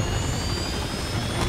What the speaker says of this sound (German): Das ist ein Hubschrauber